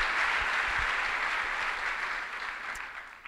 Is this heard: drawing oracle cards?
no